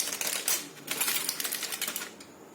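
Aluminium foil is peeled off a dish of cooled, set taro leaf sabzi, giving a close, bright run of crinkling and rustling crackles for a couple of seconds with no talking.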